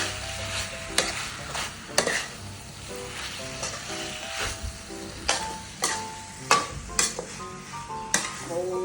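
Chicken cartilage and basil stir-fried in a pan make a continuous sizzle, broken by repeated sharp spatula strikes and scrapes at an irregular rhythm. The sound is close and clear, with no talking.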